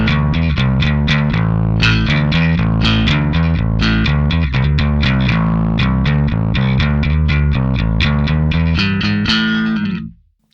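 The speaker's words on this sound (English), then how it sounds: "You'll get a lot more of that drive." Overdriven bass guitar through a SansAmp simulation on an Axe-Fx III plays a steady riff of punchy, gritty notes, loud and continuous, then cutting off abruptly at the end.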